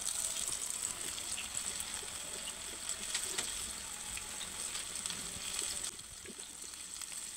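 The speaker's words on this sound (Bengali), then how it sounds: "আমি এখন তেলে দিয়ে দেব। তেলটা অবশ্যই গরম হতে হবে" Food dropped into hot oil sizzles and crackles in a steady, dense hiss that holds through the whole stretch and eases slightly near the end, with no voices over it.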